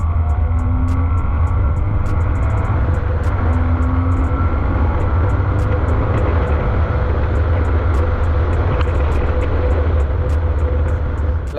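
A Porsche GT4 engine at low revs, a steady, close, deep hum and drone that stays even throughout, with no talk over it.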